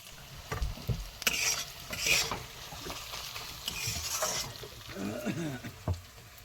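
Spice masala with salt and turmeric being stir-fried in a pan at an outdoor riverside night picnic: quiet sizzling under intermittent scraping and stirring strokes of a spoon against the pan, with faint voices in the background.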